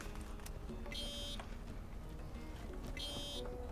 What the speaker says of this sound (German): Die Hupe ist so göttlich.